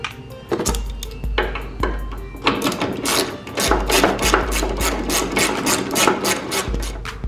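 A brake line bracket on a car having a slit cut into it during front suspension removal, heard as loud, close, rapid rasping strokes in uneven bursts with short breaks between them.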